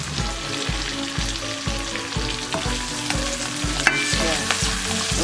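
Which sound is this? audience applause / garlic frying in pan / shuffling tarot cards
garlic frying in pan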